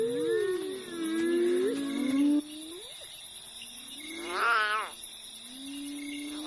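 An abandoned lion cub cries at night in a series of wavering, plaintive calls against a steady backdrop of insect chirring.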